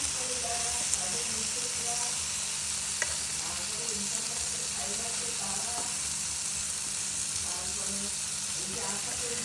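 Marinated chicken tikka frying in a pan, a steady close sizzle and hiss running throughout with occasional stirring scrapes and small pops, no talking.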